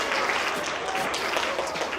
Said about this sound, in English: Let's give another big round of applause to these guys here.